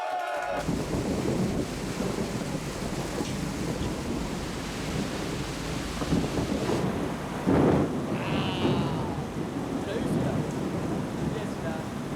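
A raging storm at sea hits a barge with a constant roar of heavy rain and wind and a deep rumble of thunder, with a voice speaking faintly over it.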